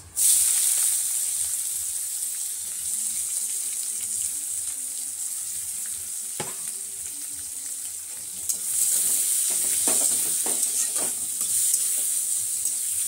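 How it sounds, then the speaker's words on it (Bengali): Chopped onions hitting hot oil with whole spices and peppercorns in a pan, a strong continuous sizzle and crackle with occasional stirring scrapes, close and alone without talk. "পেঁয়াজ দিয়ে পেঁয়াজটাকে ভালো করে একটু ভেজে নেব"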